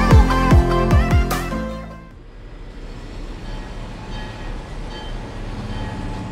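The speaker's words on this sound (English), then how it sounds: "this train that we're on now" Loud tonal squeals open, then an Italian train in the Cinque Terre rolls on with a steady, low rumble of wheels on rails.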